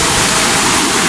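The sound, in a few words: rushing river stream water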